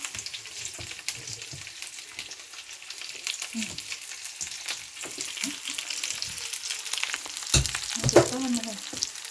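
Chinese kale and seafood stir-fry in a hot pan, giving a steady close sizzle and hiss broken by scraping and clanking stirring strokes, louder toward the end.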